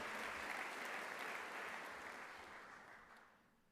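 Steady applause from a large audience at a university convocation, sustained and fairly loud, gradually fading away toward the end.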